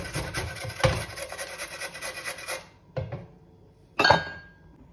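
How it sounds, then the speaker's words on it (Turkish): Peeled carrots rubbed across the large side of a grater in rough rasping strokes, a long run of grating followed by two short bursts after brief pauses, close and clear with no talk. "Rendemizin şu büyük tarafıyla hepsini rendeleyeceğiz."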